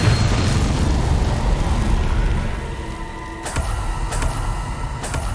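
Bombarda blasting spell explosion in the Hogwarts Legacy video game, a loud booming burst that rolls into a rumbling decay, followed by a few sharp crackling pops.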